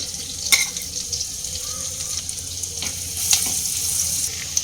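Grated garlic frying in white oil in a wok with a spoon of paste, giving a steady close sizzle with occasional stirring scrapes, no talking.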